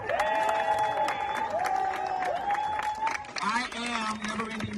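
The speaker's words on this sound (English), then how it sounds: "Give a round of applause for Ashley Marie Preston." A crowd applauds and cheers, steady clapping running throughout while voices call out over it.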